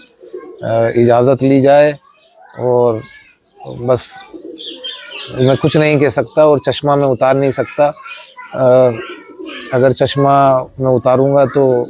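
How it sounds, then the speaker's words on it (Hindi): Tonk pigeons coo in soft, low rolling calls heard beneath someone speaking steadily and close. "ये इतने कीमती कबूतर हैं"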